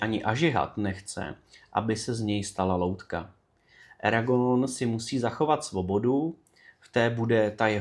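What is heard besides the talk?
No everyday noise stands out behind the speech.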